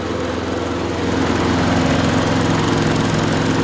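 A rescued lawn mower's small engine running steadily, a loud close buzzing drone with a rapid even pulse and no talk.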